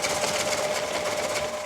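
A light wood lathe motor hums and whirs steadily as a coring tool cuts into a bowl blank, with a continuous buzzing drone and faint rhythmic chatter and no talk.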